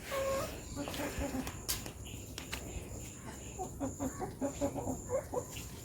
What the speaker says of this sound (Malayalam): എൻ്റെ ക്യൂട്ട് കോഴിയാണ്